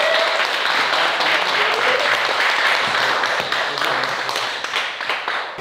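Crowd at a fight event applauds after a match, with sustained, fairly loud clapping that thins out toward the end, and a few voices faintly audible beneath it.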